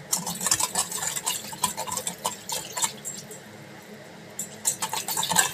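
Batter being stirred and mixed in a bowl, with a steady run of close, light scraping and clinking from the utensil against the bowl, no talking.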